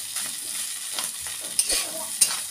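Rice frying in a pan with chopped onion and green chilli, a steady soft sizzle with light stirring scrapes and a couple of sharper clicks of a utensil against the pan.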